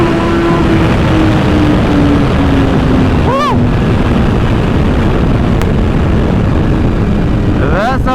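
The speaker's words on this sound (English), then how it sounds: "This is what the full titanium exhaust sounds like" A 2021 BMW S1000RR M motorcycle with an Akrapovic full titanium exhaust on an open road, a loud steady engine tone buried in strong wind buffeting, with two quick rising revs, one midway and one at the end.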